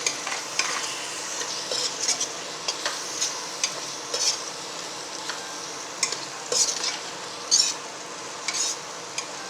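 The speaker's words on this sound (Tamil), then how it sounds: "அதையும் தக்காளியும் போட்டு கொஞ்சம் நேரம் ஃப்ரை பண்ணிக்கிடுவோம்" Tomatoes and green chillies frying in a pan for a plain kuska biryani, a steady close sizzle with stirring scrapes and small crackling pops throughout, no voices.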